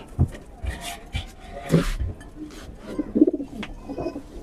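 Pigeons coo softly in a loft, several low repeated coos mixed with wing flutters and rustling, while someone speaks briefly nearby.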